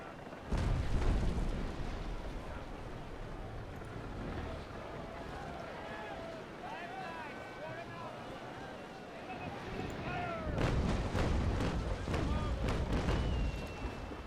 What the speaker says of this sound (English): We've still got the starboard side guns loaded, so we might as well come and rake it with those as well as we're here.